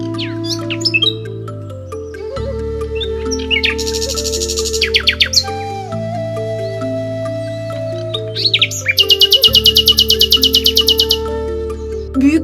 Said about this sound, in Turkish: Sadece kuş sesleri işitiliyor burada